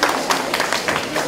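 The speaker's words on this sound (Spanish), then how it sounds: "Un aplauso a todos" Brief burst of audience applause, dense overlapping claps at close range, loud and steady for a little over a second.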